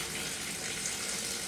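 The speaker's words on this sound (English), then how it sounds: "you kind of see the wind blowing right now" Ocean wind sweeping through an open house with the upstairs unblocked, a steady, even broadband rush filling the room without pauses or talk.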